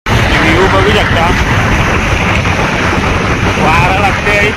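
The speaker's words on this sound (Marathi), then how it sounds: "गाडी असल्यामुळे रास वारा लागते" Heavy wind buffeting a microphone on a moving vehicle on a road through the Sahyadri hills, a loud continuous roar filling the whole stretch, with a voice talking underneath.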